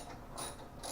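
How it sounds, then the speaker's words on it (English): A ratchet wrench removing 10 mm bolts from the bumper of a 2020 Mitsubishi Outlander, a faint, quick run of close clicking. "Now we got some 10 mils to take out"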